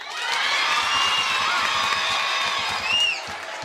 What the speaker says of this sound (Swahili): Piga makofi tuwatambue kama mpo.